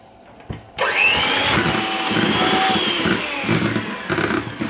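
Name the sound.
whisking egg whites with lemon juice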